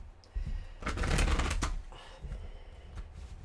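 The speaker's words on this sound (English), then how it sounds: "Okay, one more and I'll cut the cards." Tarot cards being shuffled by hand, a dense papery riffle building around the middle and easing off, close and moderately loud with no talking.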